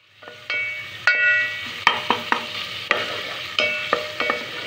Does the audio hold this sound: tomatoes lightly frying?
yes